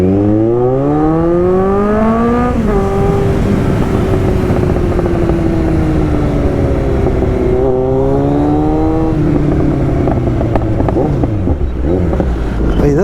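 A Kawasaki Z900 motorcycle accelerates hard, its engine note climbing steadily through the gears with a brief dip between shifts, loud and close with wind rush throughout.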